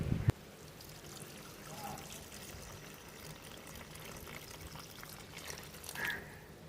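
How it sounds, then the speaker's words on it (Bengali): Warm water pours into a pan of simmering Katla fish curry, a thin steady splashing stream near at hand, with a faint sizzle beneath. "এবারে আমরা এর মধ্যে সামান্য একটু উষ্ণ জল দিয়ে দেবো।"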